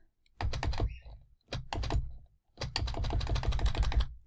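Rapid typing on a computer keyboard, close and clear, in three bursts of dense key clicks separated by brief pauses, the last burst longest.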